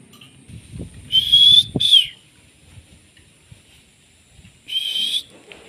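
A pet pied myna gives two clear, rising whistled calls in quick succession, then a third after a pause, sharp and fairly close over a quiet background.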